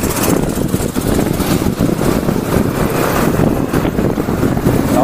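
Dense, loud street traffic in Tabatinga, Brazil, with multiple motorcycle engines buzzing and rumbling nearby in a continuous blur.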